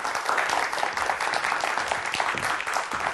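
A studio audience claps to welcome a KT Big Data Center executive onto a Korean talk show about mathematics, a lively, slightly uneven burst of applause lasting a few seconds.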